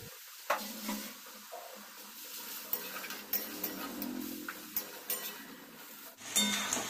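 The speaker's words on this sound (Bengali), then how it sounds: "দিয়ে মশলাটা একটু কষিয়ে নেব" A spice paste of ginger, green chili and melon seeds sizzles softly in a pan over bay leaf and dried chili, with a spoon repeatedly scraping and clinking against the metal while it is stirred.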